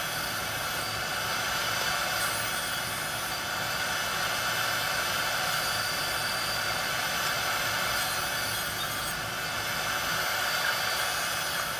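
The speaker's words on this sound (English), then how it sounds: "This is a Makita 4x24, 4-inch wide, 24-inch long belt sander, and I love this thing." A Makita 4x24 belt sander, four inches wide and twenty-four inches long, running over a round oak table top, giving a constant loud rushing whir that holds steady throughout with no pauses or talking.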